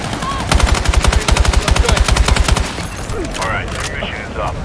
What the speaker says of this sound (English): Hostile machine gun!